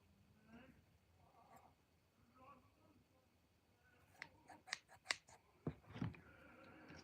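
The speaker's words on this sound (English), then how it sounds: "And then I'm just going to trim the bad bits off." Scissors snip the bad bits off a houseplant in need of care: a run of sharp, close cuts in the second half, with softer handling rustles and faint voice earlier on.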